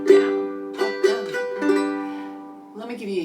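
A ukulele plays a modified island strum, bright strummed chords ringing out in a syncopated down-up rhythm, close and clear, with no voice over it.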